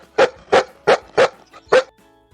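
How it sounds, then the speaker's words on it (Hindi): A dog barks five times in a quick, evenly spaced run, each bark loud and close, with a short quiet pause before the last and no talking. "ये है डॉग। डॉग मीन्स कुत्ता।"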